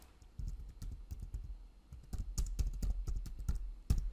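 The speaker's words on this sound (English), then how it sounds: "just by typing in with your keyboard" Typing on a computer keyboard, with quick irregular key clicks and taps in short bursts, close and fairly quiet, no voices.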